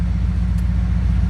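A used auction car's engine idles steadily right after a hard start, with a close, even low rumble and regular firing pulses and no talking.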